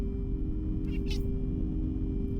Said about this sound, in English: I don't know if you could hear her tiny little meow.